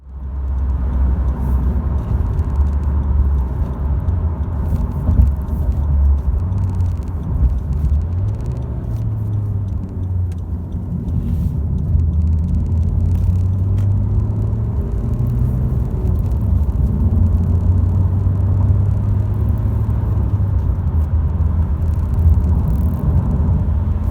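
A car being driven, its engine giving a steady low rumble with a droning tone that rises and falls gently as the revs shift. It runs close and loud the whole time, with no talking.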